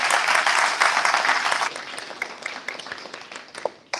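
A short burst of audience applause at a library launch, dense at first and then thinning into scattered individual claps as it dies away.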